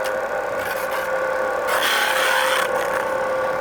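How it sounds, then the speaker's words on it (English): Thin wood strips for a Shaker box fed through a thickness sander in a woodworking shop, a loud steady abrasive grinding roar that swells slightly midway, with no talking. "You can hear them getting sanded off."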